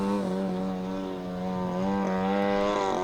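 An Aeroworks 50cc Edge 540 RC airplane in flight, its gas engine giving a strong continuous buzzing drone with rich harmonics that rises and falls slightly in pitch as it maneuvers nearby.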